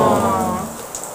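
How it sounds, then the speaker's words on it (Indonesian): Rain falls through a wet day from morning to evening, a brief rushing wash that starts full and gently tapers over about a second, with no talk over it. "Ieu kudu kumaha jama, ti isuk sampai sore hujan bae."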